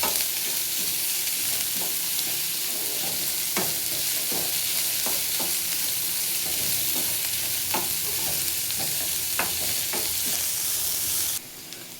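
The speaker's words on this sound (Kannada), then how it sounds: "ಕ್ಯಾರೆಟ್ ಬೇಯ್ತಾ ಇದೆ." Carrots frying in a pan give a steady, loud sizzle throughout, with repeated soft scrapes and taps of stirring scattered on top, and no talk.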